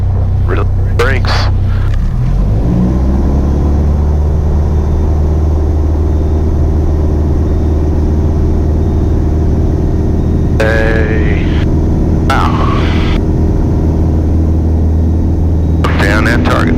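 A light training aircraft's engine runs up to full power for the takeoff roll, a loud, steady droning roar that swells after a brief idle. An instructor's voice cuts in now and then over the engine.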